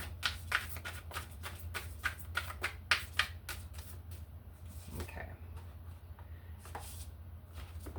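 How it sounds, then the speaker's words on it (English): Tarot cards being shuffled by hand, a quick series of crisp riffling snaps and slaps for about three seconds, then softer sliding and tapping as the deck settles, close up with no talking. "Let's do one more shuffle."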